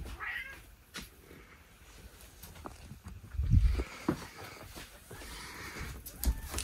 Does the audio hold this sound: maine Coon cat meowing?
yes